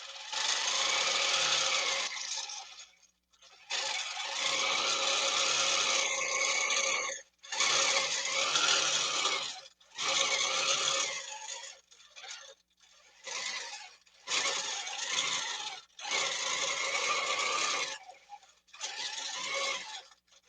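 A Baby Lock quilting machine stitches freehand quilting in bursts of steady mechanical whirring, several runs of a few seconds each separated by short pauses, close and fairly loud with no talking.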